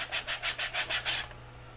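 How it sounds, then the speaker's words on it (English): Six rhythmic back-and-forth sanding strokes rasp along the edge of a leather knife sheath, close and steady, then stop, leaving a quiet low hum with no talking. "So I'm going to go ahead and sand this for a little bit."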